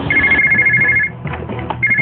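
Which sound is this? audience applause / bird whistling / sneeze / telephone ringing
telephone ringing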